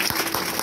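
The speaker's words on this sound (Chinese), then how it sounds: "给他一个掌声好不" A short burst of audience applause for a contemporary film master, dense clapping that fills the moment briefly at close range.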